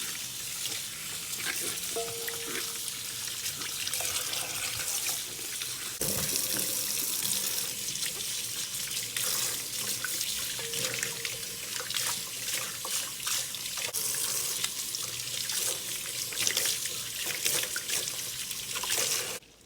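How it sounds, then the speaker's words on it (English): Tap water runs steadily into a kitchen sink as vegetables are rinsed, a continuous hiss with occasional splashes and clatter throughout. "We are going to rinse the vegetables."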